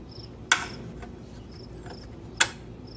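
A radiator hose support clip on a 2011-2016 Chrysler Town and Country or Dodge Grand Caravan with the 3.6 engine is pried open with a screwdriver, giving two sharp, close plastic clicks about two seconds apart over a quiet background.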